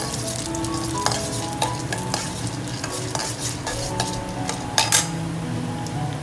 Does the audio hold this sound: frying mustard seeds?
yes